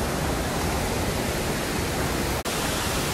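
Cold river water rushing around someone wading across on foot, a dense continuous roar close to the microphone with one brief dropout near the end.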